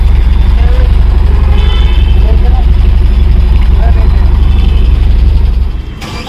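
A Tata Marcopolo Starbus BS6 bus with a CNG fitment runs loud and steady under throttle at a workshop, its deep engine rumble continuing before it cuts out near the end.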